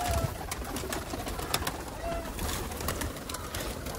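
Pigeons coo softly amid a dense, noisy background of flapping and scratching as washed grain is scattered for them, with occasional faint whistles; steady clamor throughout.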